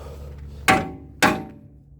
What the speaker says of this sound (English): good whacks with the hammer. It only took me 2, and it'll pop down just like that